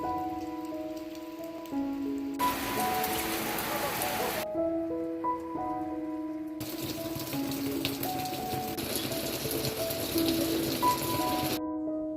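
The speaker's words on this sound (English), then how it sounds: "We were greeted by heavy, almost continuous and persistent rain when we reached home late evening." Heavy, persistent autumn rain hisses in steady bursts beneath soft melodic music, a continuous wash that comes and goes in long stretches.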